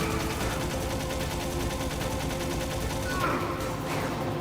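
Rapid automatic gunfire in the video game Metal Gear Solid, a dense continuous rattle of shots sprayed without pause, fairly quiet in the mix, with a voice talking over it.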